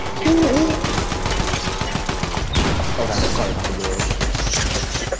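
Gunfire from the Fortnite video game comes as dense, repeated shots and a fusillade throughout, loud and close, with a brief hooting sound early on.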